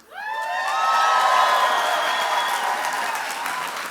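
A commencement crowd at Capital Technology University cheering and applauding the class of 2019, a loud swell of whoops, shouts and clapping that rises quickly and holds for several seconds.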